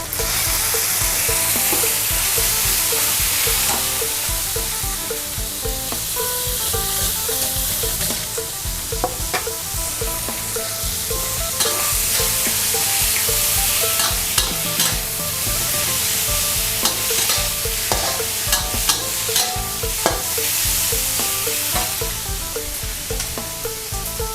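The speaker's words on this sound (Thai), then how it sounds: "ต่อไปเราก็จะใส่หนูนาลงไปผัดเลยค่ะ" Field rat meat stir-frying in red curry paste in a hot pan, a continuous loud sizzle with repeated scraping and clanking of a spatula throughout.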